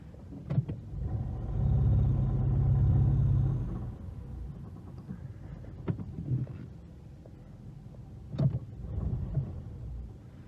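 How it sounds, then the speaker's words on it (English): A 2016 Peugeot 208, crash-damaged and with a very loose radiator, runs in a driveway with a low engine rumble that swells for a couple of seconds, then settles into a quieter idle with intermittent knocks and rattles. "Obviously there's a lot of rattles because that radiator is very loose."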